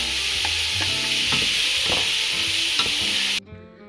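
Haitian epis and chopped vegetables for a baked vegan creamy rigatoni sauté loudly in a pan, a steady close sizzle with occasional stirring scrapes, then it cuts off abruptly near the end.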